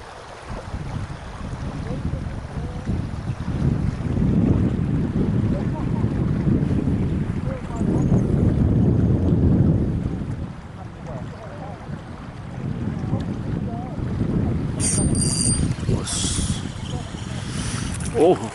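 Strong wind buffets the microphone at a harbour while lure fishing for cuttlefish, a loud rumbling roar that swells and eases in gusts, with brief sharper sounds near the end.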